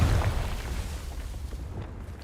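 In Hogwarts Legacy, a Confringo spell goes off as a deep, loud explosive boom at the start, then fades into a rumbling tail.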